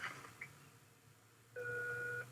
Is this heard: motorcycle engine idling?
no